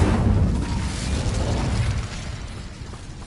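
Incendio fire spell cast in Hogwarts Legacy, a loud burst of roaring flame that crackles and rumbles, then gradually dies down.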